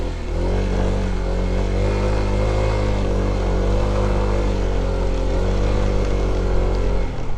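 A motorcycle with low ground clearance rides over a rocky trail, its engine droning loud and steady up close with slight shifts in pitch and no voices.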